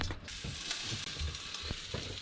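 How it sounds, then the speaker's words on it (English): Trigger fish sausage patties fry in a pan on a sailboat galley, giving a steady close hiss with a few soft clicks and knocks from the pan, with no talking. "Just flipped him, and I'm driving the sizzle from the fish"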